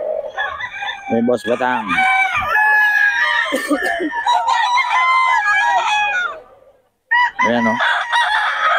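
Gamecocks at a Bocaue tiangge market crow loudly and repeatedly, several overlapping calls with clucking, then a short pause before another crow; someone talks briefly among them.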